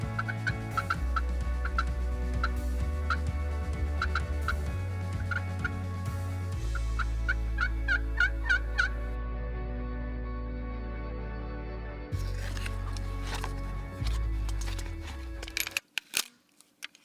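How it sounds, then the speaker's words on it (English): Wild turkeys gobbling on a wooded ridge during spring hunting, repeated distant gobbles over a steady low hum, with a few sharp knocks near the end. "They're gobbling on both sides of this ridge right now"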